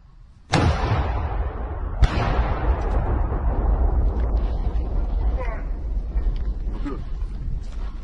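Weapon fire during an ambush on a Russian vehicle convoy in Ukraine: a sudden loud blast followed two seconds later by a second sharp boom, each leaving a long rumbling decay under distant noise.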